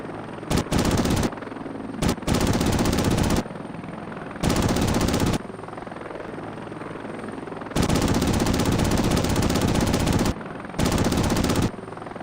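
A scout helicopter's rotor drones without pause in a military video game while long bursts of rapid machine-gun fire cut in and out several times, loud and close, with no talk.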